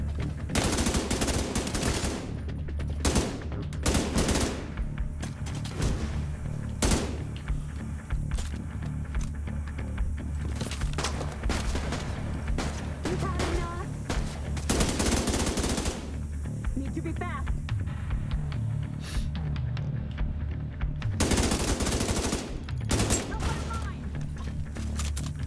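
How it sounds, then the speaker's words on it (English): Sustained bursts of machine gun fire from a mounted turret in The Division 2, loud and close, coming in repeated rattling volleys with short gaps between them, with a few heavier booms mixed in. "Oh, he has a machine gun. He's on a turret."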